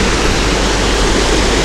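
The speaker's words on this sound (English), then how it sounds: "this is a waterfall that I could spend all day at" A waterfall roars in a steady, dense wash of falling water, loud and close, with no voices over it.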